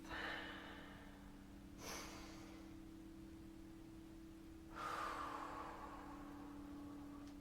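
Two slow, deep breaths drawn close to the mic, soft airy whooshes a few seconds apart over a steady low electrical hum in a quiet room.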